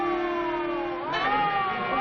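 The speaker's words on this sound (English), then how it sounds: "It's a siren. Probably an ambulance or a police car." A siren, apparently from an ambulance or police car, wails in a steady rising and falling tone that swells partway through, heard alone and fairly close.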